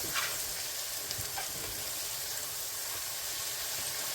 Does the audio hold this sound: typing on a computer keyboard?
no